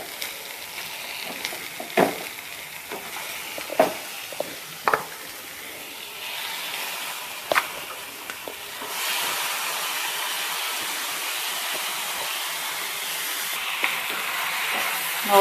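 Chicken frying in an iron kadai with softened tomato: a continuous hiss and sizzle with a few sharp clinks early on, the sizzle swelling louder and broader in the second half.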